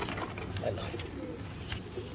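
A pigeon coos softly among a dense, noisy background, its low throaty calls faint and partly masked by a steady rumble and rustling.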